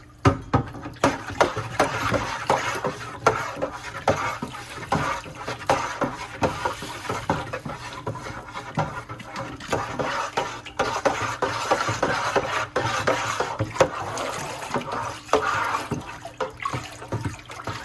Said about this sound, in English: I'm going to be adding the bentonite while stirring the water in the primary fermenter